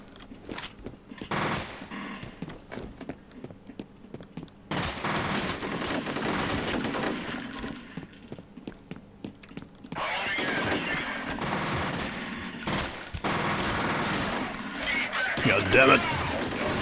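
Repeated gunfire bursts from firearms in the video game F.E.A.R. during a flight ambush, loud and sustained in several stretches, with a voice talking over parts of it.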